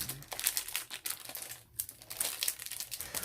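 A small Eevee box package torn and opened by hand on the floor, giving a steady close crinkling and crumpling of cardboard and plastic wrapping with brief pauses, no talk.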